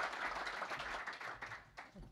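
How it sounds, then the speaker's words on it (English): Faint applause from an audience at a science funding event, a soft, steady patter of clapping that thins out toward the end, heard from a distance. "Give her a big round of applause"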